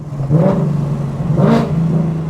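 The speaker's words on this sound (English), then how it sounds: "H-pipe definitely has a little more rumble to it, or you know, throatiness, that's for sure." A 2024 Ford Mustang S650 with an H-pipe exhaust revs close by, two quick throttle blips rising over a deep, throaty idle rumble.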